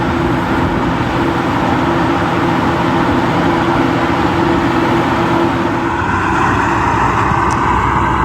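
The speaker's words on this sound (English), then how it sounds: "So he's going to get on this big tractor." A big farm tractor engine runs steadily in a pecan orchard, a loud, continuous low rumble with no break throughout and no talk.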